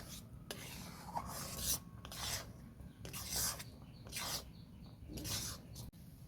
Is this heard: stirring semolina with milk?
yes